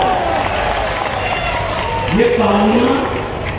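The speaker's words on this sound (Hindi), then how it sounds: "ये तालियां किसी को ऐसे नहीं मिलती" Crowd applause at an opposition political rally at Ramlila Maidan, a broad steady wash of clapping and cheering from a large gathering, with speech over it.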